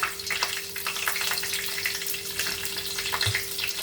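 Steady, dense sizzling of whole spices frying in hot oil for chicken curry, close and continuous, with faint crackles and a low hum, no voices.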